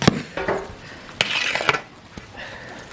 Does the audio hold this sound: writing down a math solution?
no